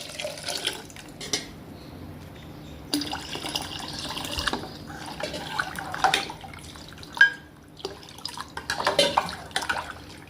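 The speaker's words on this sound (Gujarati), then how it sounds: "તો આપણે એની અંદર જરૂરિયાત પ્રમાણેનું પાણી રેડીશું।" Water is poured into boiled dal in a pot, with intermittent splashing and trickling along with a few clinks of the vessel at close range, and no talking.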